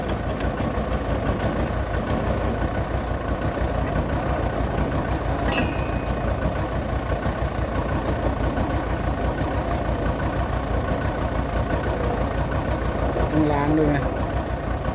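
Vehicle engine idling at a drilling site, a steady mid-pitched rumble running throughout the clip, with people talking over it.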